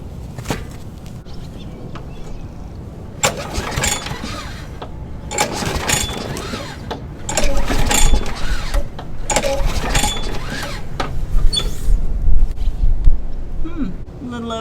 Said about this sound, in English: So we'll pull the cord a couple times and see what it goes up to